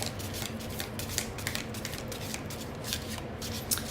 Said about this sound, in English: I'm just gonna pull out 2 more cards from my romance angels